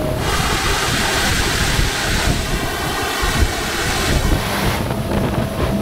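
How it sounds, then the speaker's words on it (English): Strong wind buffets the microphone while waves slap and churn against an electric boat heading straight into 15-knot wind on the open ocean, a steady, loud roar with no talking. "Today we have 15 knots of wind blowing in from the open ocean, and we're going straight into it."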